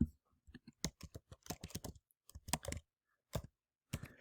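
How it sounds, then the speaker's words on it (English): Short, scattered bursts of key presses on a computer keyboard, close and fairly quiet, with brief pauses between clusters of clicks. "I could type here"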